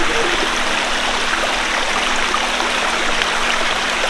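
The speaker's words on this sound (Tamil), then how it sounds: "நீ சூப்பராக ஓடி விழுற தண்ணி." Stream of water running down Aare Falls at Nagalapuram, a steady close rush of flowing and splashing water that continues unbroken throughout, with no voices.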